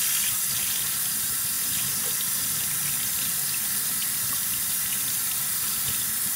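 A kitchen tap runs steadily into the sink, a continuous loud hiss and splash of water with no pauses and no voices.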